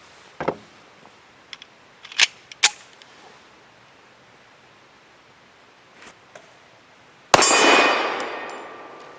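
Tisas Regent PC45 pistol firing 185 grain Sig Elite Performance ammunition: a few sharp cracks early on, then one loud close shot near the end with a long ringing decay.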